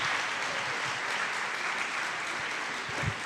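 An auditorium audience at a university gender-violence lecture claps steadily, a thick continuous patter of many hands at even loudness with a couple of louder individual claps near the end.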